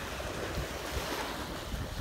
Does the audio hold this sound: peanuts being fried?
no